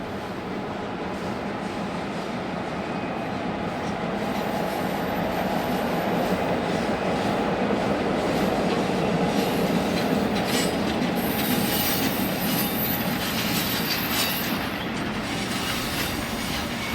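A molten steel train rolls west on rails through Hammond near Gibson Yard, a steady loud rumble of wheels with faint clicks and squeals continuing throughout, close by and uninterrupted.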